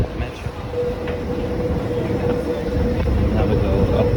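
An Amsterdam metro train rumbles at an underground platform, with a steady low roar and a faint tonal hum that swells slightly toward the end.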